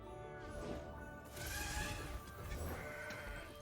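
A mountain goat bleats in the Legends of Runeterra card game, with a couple of short bleating calls over a steady game soundtrack, fairly close and moderately loud.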